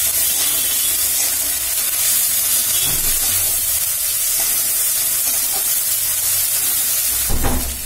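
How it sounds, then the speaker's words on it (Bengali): Turmeric and ginger paste fries in hot oil for Katla fish kalia, giving a steady loud sizzle and hiss throughout, with occasional stirring scrapes and a brief clatter near the end. "এবারে আদা বাটা হাফ চামচ দেওয়া হলো, আবার কষানো হচ্ছে।"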